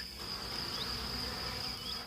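Bees buzz steadily in an oak forest, a continuous close insect drone with a high whine running through it, with no voices over it.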